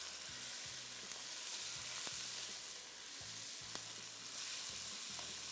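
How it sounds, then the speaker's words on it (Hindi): Chicken with ginger and garlic fries in a pot over high heat, giving a steady dense sizzle with faint stirring scrapes and clinks. Quiet and continuous, with no talking. "तेज़ आंच पे इसको थोड़ा सा फ्राई करना है"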